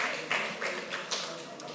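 Conference attendees at a Somalia, African Union Commission and African Development Bank session applaud as speakers come forward, a faint, scattered patter of clapping with a few louder individual claps standing out.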